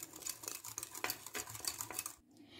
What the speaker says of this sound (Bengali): এবারে খুব ভালো করে দইটা আমি ফেটিয়ে নেব।